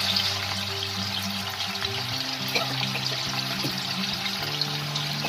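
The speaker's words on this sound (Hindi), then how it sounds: "तो ये पनीर को फ्राई कर लूँ" Paneer frying in a couple of spoonfuls of hot oil gives a steady, close, broadband sizzle with a faint hiss that holds evenly throughout, with no voices.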